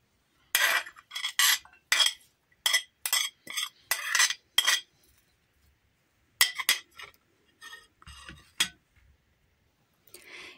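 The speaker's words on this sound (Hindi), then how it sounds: "इन सबको हम मिक्स कर लेंगे" Chopped salad vegetables with avocado and capsicum being tossed in a bowl, a run of sharp clinking and scraping strokes in quick bursts, close and alone, then a pause before more scattered knocks.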